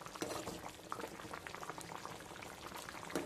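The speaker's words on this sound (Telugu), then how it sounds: "చూడండి కంద పులుసు చక్కగా ఒక్కొక్క ఉడికిపోతుంది" Elephant foot yam tamarind stew (kanda pulusu) boils steadily in a pot, with dense continuous bubbling and popping close up and no talk.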